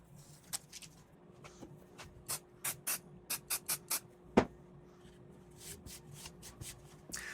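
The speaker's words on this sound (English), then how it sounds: "I'm fixing this down with a low-tack temporary spray glue" A series of short hissing bursts of low-tack temporary spray glue, several in quick rhythmic succession, with a sharp click in the middle, close and fairly quiet.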